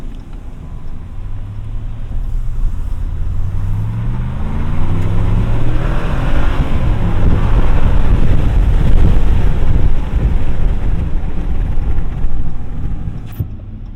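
Steady rush of road and wind noise pours through an open window of a 2019 Dodge Ram Rebel crew cab truck while driving, a low roar that swells slightly midway and holds loud throughout with no talking.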